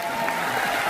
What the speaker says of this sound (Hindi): इसी बात पर तालियां बजा दीजिए आप सभी लोग